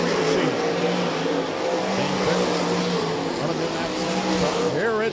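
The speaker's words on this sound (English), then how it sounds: "Brandon Bosma, your race leader in the Papik Motors 23 machine." Sprint cars and sportsman cars racing in a heat at Rapid Speedway, engines droning steadily and loudly throughout, with a race announcer talking over the continuous roar.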